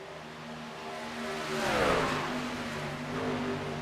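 Race truck engines at a Texas oval in the iRacing simulator, a continuous mid-pitched drone swelling as trucks close in and pass near, then settling back to a steady roar.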